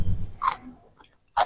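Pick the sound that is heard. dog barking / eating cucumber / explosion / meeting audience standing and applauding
eating cucumber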